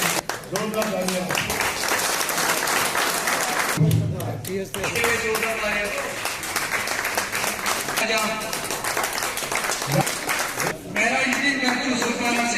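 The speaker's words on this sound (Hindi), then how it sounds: "जोरदार तालियां।" Crowd applause at a BJP political gathering in Kashmir, loud and sustained across the whole stretch, mixed with overlapping voices and shouting from the crowd.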